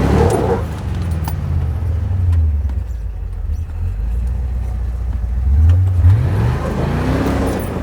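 Jeep engine revving as it climbs a rock obstacle on a trail, a close low motor that surges and rises in pitch near the start and again toward the end, holding a steady idle-like drone between.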